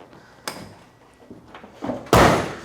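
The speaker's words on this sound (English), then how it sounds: "Door shuts real nice. One solid thump." A 1970 Ford Mustang Boss-style convertible's door shuts with one heavy, solid thump at the end, after a few lighter clicks and handling noises.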